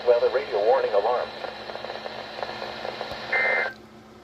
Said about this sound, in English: This ends the test of the National Weather Service weather radio warning alarm.